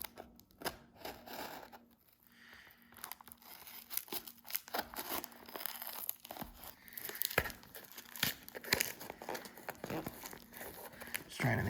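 A package holding fixed-blade knives with possible leather sheaths is opened, with continuous crinkling and tearing of packaging material, sharp crackles and rips scattered throughout at close range and a voice faintly present.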